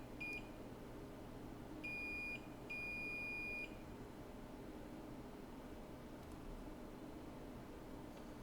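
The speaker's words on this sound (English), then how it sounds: "We can just see if we get a beep to the chip so that we know that that trace isn't actually torn up." A multimeter's continuity tester, probing a trace to a chip on a MacBook Air A1466 logic board, gives a few short high-pitched beeps, then one longer beep, over faint steady background hiss.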